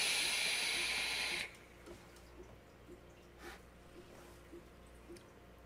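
Air pulled through a Dreadnaught V2 RTA vape tank with the airflow wide open: a loud broadband hiss for about a second and a half, then quiet with faint soft clicks and low hum.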